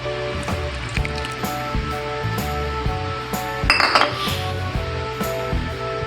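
A spoon clinks and scrapes against a bowl as mango ice candy mixture with grated coconut is stirred, repeated rhythmic taps and knocks close up, with a brief wet swish midway.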